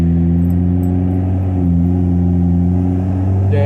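A 2021 Chevy Silverado 2.7 turbo with the muffler swapped for a straight pipe, heard from inside while driving as the engine climbs toward 3,000 RPM. The sound is a steady, loud, low droning hum with a slight rise in pitch.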